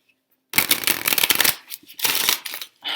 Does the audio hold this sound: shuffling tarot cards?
yes